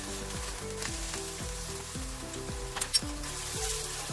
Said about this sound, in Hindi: गार्लिक और चिली सौते हो गई है.